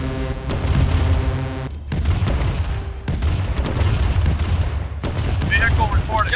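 Bursts of gunfire and booming explosions from the Command and Conquer Remastered video game come in dense, overlapping volleys, with in-game voice announcements layered in and a short lull partway through.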